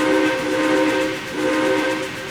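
A train whistle sounds loud and close on the San Juan branch line, a steady multi-tone blast playing the shave-and-a-haircut rhythm with a couple of swells in pitch and volume, no voices.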